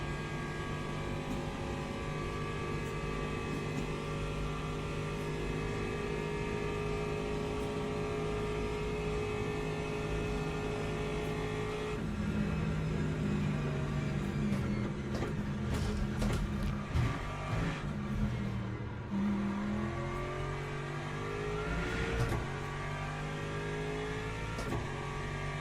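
LMP2 prototype race cars in the Le Mans Ultimate racing game approach with steady engine drone that swells and shifts pitch around the midpoint as they pass, loud and continuous throughout.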